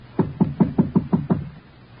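Six firm, evenly spaced knocks on a wooden door, close and loud, delivered as an old-time radio drama sound effect with no voices over them.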